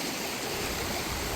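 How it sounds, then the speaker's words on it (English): Drummond Creek in the Whitehorse Wildlands Area of Alberta rushes past. A loud, steady, close-up roar of flowing water continues without a break. "So this is the Drummond Creek."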